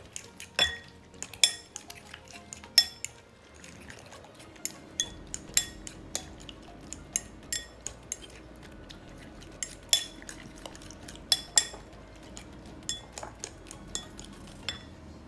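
Omelette eggs are beaten in a bowl with black pepper. A utensil clinks rapidly and repeatedly against the bowl in an irregular rhythm, with sharp metallic taps over a quiet background.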